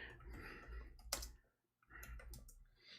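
Keys tapped on a computer keyboard, a quiet cluster of soft clicks, one sharper click, a brief pause, then more tapping, faint and close with no voices.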